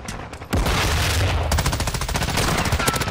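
Sustained automatic gunfire from a Modern Warfare 2 firefight, loud and dense, with rapid bursts starting after a short pause and continuing nearly without a break.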